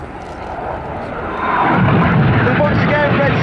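Red Arrows jets sweep overhead during the Hannah break manoeuvre at an air display, a rushing engine roar that builds and holds loud, with a voice talking over it.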